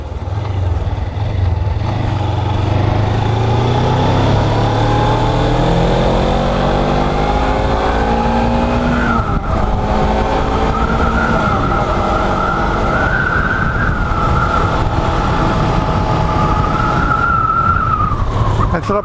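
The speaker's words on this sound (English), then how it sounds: "I'm going to quick drive down the bypass." A Suzuki GSXR motorcycle ridden fast down a bypass: a loud, close engine note that climbs and drops through the gears, with steady wind roar throughout.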